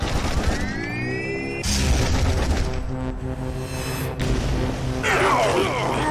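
Loud game weapon fire blasts repeatedly at an object in the retro shooter Darkenstein 3D, with booming shots, whooshing sweeps and clanking mechanical effects in quick succession.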